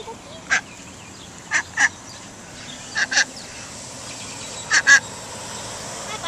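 Ducks at a pond give several short quacks in pairs and singles, spaced a second or so apart, moderately near over a steady outdoor background hiss.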